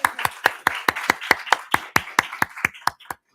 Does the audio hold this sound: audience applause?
yes